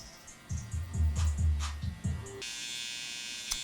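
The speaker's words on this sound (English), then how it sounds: "I'll go through and just use the corner of the clipper" Electric hair clippers buzz close up while trimming a buzzcut, with a low, pulsing hum that changes in pitch as the blade moves through the hair, then settles into a steadier high whine.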